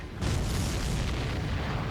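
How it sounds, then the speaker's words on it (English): In the video game Ace Combat 7: Skies Unknown, a missile strikes a supply ship and it explodes in a loud, deep boom that swells quickly and rumbles on steadily, with no talk over it. "Did you see that explosion?"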